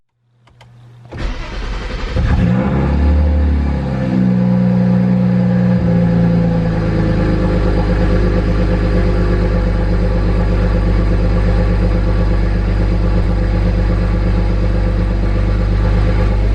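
A BMW N54 engine, running poorly with a fuel rail gasket missing, cranks and catches, then settles into a loud, steady idle with a slightly uneven, rumbling tone that continues without talk.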